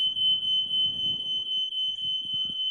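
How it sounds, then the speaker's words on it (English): A smoke alarm sounds a steady, piercing high tone that runs continuously throughout, with low indistinct background noise underneath. "that's the smoke alarm going off"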